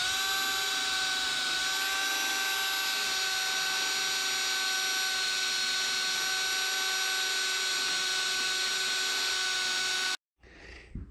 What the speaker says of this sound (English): I'm just going to throw it in the drill here